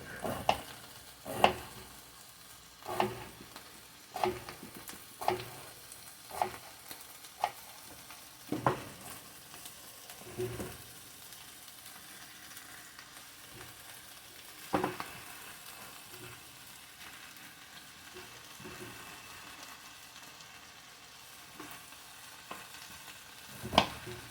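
Thinly shaved cabbage and potatoes fry quietly in a pan, with a soft low sizzle and a series of irregular spatula scrapes and taps, faint and with no talk.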